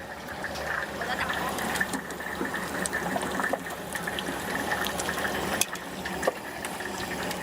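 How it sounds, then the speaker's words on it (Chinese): Stinky tofu deep-fries slowly in a pot of oil over a low flame at a street food stall, a continuous close bubbling and gurgling wash broken by a few brief clicks and knocks. "多炸一会儿，让它慢慢炸。"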